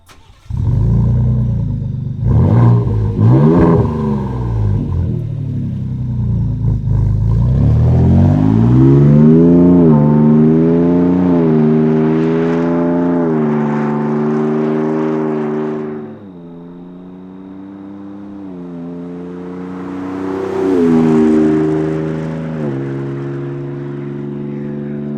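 A Ford Raptor fitted with an MBRP 3-inch cat-back, dual rear exit exhaust revs and pulls away, its loud deep engine note rising and falling through the gears, with no talking.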